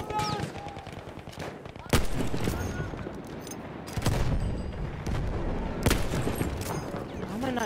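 Heavy automatic gunfire from Battlefield 1 rattles in sustained bursts, punctuated by several sharp, loud cracks and booms, close and dense throughout, with game noise around it.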